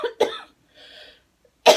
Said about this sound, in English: Sorry, I'm gonna cough really.